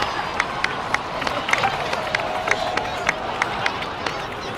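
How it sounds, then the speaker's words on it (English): Crowd of game characters clapping and cheering in Genshin Impact, a steady busy round of applause with scattered sharper claps, heard alone at moderate loudness. "So, please give another round of applause for them."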